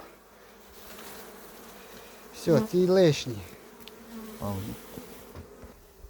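Honeybees buzz steadily close by, swelling into louder agitated droning as they are shaken loose from a hive frame, with brief speech in between.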